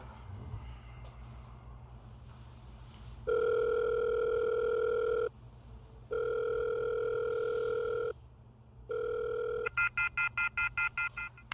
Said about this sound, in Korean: 고객센터에 전화해야겠다.